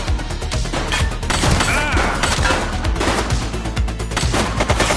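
Dense, loud bursts of rapid gunfire in the police video game The Precinct, overlapping shots forming a continuous fusillade with crashing impacts and no pauses.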